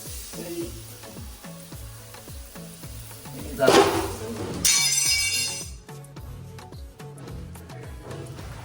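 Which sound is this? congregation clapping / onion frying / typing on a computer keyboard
onion frying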